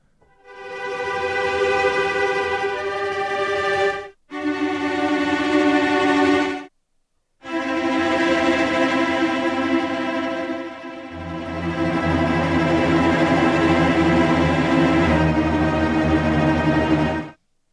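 Cellos from an Abbey Road Orchestra sample library sustain rich, buzzing chords in dense bowed tremolo, loud and close, with two brief pauses before a lower voice joins for the final stretch.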